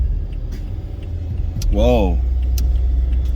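Truck passing by on a road, a rising rumble that swells and sweeps past mid-clip with a brief whining tone, while a person exclaims over it.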